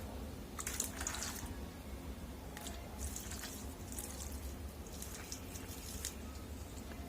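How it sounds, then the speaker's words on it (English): Water splashes and trickles into a pan holding a cocopeat brick in a few uneven bursts, close and fairly quiet over a low steady background hum. "So I'll pour a little bit of water"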